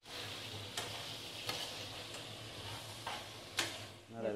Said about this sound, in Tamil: நண்டு சின்ன சைஸ் தான், இந்த நண்டு ஈஸியாக சார்ல இறங்கிடும்.